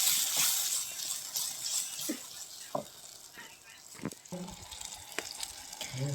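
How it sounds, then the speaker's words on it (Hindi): Ginger-garlic paste frying in oil and being stirred with peas and spices for a Rajasthani-style pea and mushroom curry over a chulha, a steady soft sizzle broken by scrapes and clinks of the spoon against the pan. "तो फिर मैं डालती हूँ अदरक और लहसुन का पेस्ट, और ये भी अच्छे से मिक्स कर देती हूँ।"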